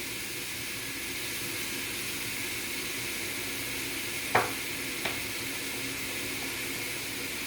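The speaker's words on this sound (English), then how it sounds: "I'm gonna stir fry for about 5 minutes. I'm gonna add a little bit more sesame oil to the pot." Shrimp noodles stir-frying in a pot with sesame oil give a steady, soft sizzle throughout, broken by two brief clinks of a utensil against the pot.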